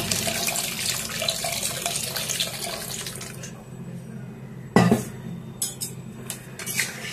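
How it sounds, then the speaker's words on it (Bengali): Water pours steadily into a pot of dal cooked with young hog plums, a continuous splashing stream close by that thins out, followed by a few sharp clinks of the pot. "এবার একটু জল দিয়ে দেবো।"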